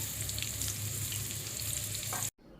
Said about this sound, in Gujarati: હવે આમાં 2 મોટી સાઈઝની ડુંગળીની સ્લાઈસ નાખશું